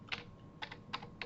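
A handful of light, quiet keystrokes on a computer keyboard while a comma is typed, four soft clicks spaced evenly apart against a faint room hum.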